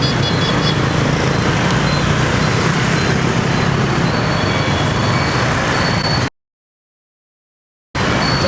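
Dense street traffic in Vietnam, with vehicles driving on the sidewalk: a steady loud roar of engines and road noise with faint high beeps, close by and unbroken, before a sudden cut to silence.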